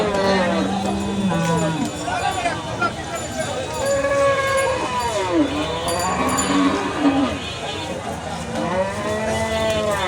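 Cattle and bulls low repeatedly at the crowded Topakhola cattle market in Faridpur, several long moos near and far over a busy murmur of people talking.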